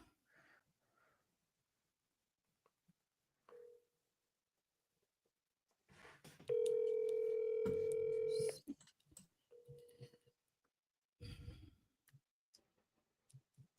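Outgoing phone call with a single loud steady ringback tone lasting about two seconds, surrounded by faint clicks and brief speech.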